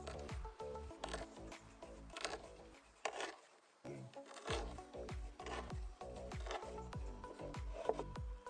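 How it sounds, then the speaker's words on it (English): Hand-driven spoon auger boring peg holes through wooden planks using early medieval techniques, heard as steady rasping and scraping strokes in a repeated rhythm, close and moderately loud, with no talk. "I drilled holes for the pegs with a spoon auger, the most common tool for drilling holes in the early medieval period."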